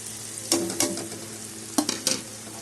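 Ground spices, including turmeric, cumin and Kashmiri chilli powder, frying and being stirred in hot oil in a pan, with a steady soft sizzle broken by a few sharp bursts of scraping stir strokes, close and without talk.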